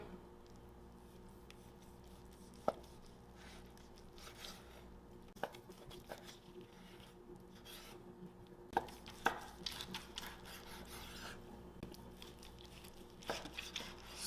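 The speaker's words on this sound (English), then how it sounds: "now to slice against the grain" A knife slicing through smoked meat against the grain in a kitchen, giving a quiet, close run of soft chopping strokes and scattered sharp taps on a cutting board, irregularly spaced, with faint handling noise between cuts.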